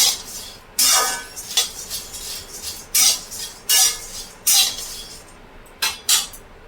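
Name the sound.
puffed rice (muri) being fried and stirred in a pan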